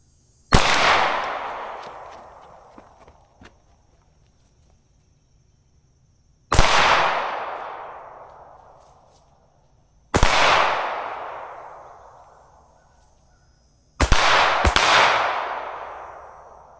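A Glock 19 pistol fires on a range, with four sharp, loud single shots spaced a few seconds apart. Each crack rings out into a long decaying echo, and the last comes as a quick double. No talking is heard.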